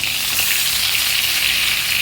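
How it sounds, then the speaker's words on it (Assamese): Fish frying in hot oil in a pan gives a loud, continuous close-up sizzle and hiss, steady throughout with no voices. "মই মাছ ভাজি আছোঁ এতিয়া"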